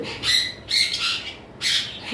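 Three bursts of shrill, high-pitched calls from green Fischer's lovebird splits, close by, each lasting about a third of a second, with short pauses between.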